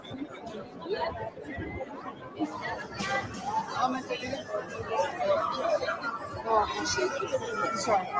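A crowd of people lined up for photos, chattering and arguing over one another in a dense, steady babble of overlapping voices close by.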